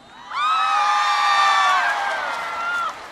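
An arena audience at a Mother's Day concert in Taipei Arena answers with loud, sustained shouting and cheering, many high voices swelling together for a few seconds before cutting off.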